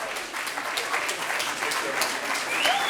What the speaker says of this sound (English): I think this is the first standing ovation we've ever had for a speaker